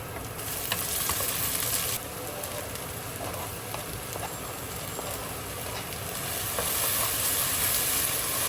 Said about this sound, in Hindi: ये राइस का तुड़का जो है ना, वो तैयार हो रहा है